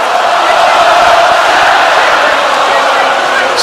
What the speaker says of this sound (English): the crowd have got really behind her